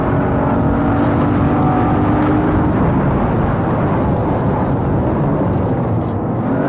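Virtual Mercedes C63 AMG drifting in Assetto Corsa, a loud, continuous engine roar held at high revs, dense and unbroken for several seconds before easing slightly at the end.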